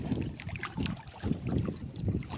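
Steady wind buffets the microphone over open water, with a low rushing rumble and gentle wave lapping, no voices.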